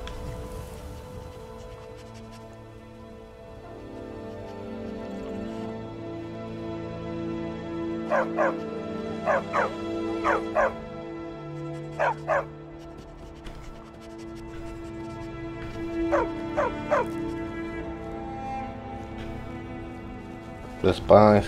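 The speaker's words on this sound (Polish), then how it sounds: "Znalazłem jakiegoś psa." A stray dog in the video game Skyrim barks in short clustered bursts of three or four, repeating over several seconds above steady in-game ambient music, with a person talking.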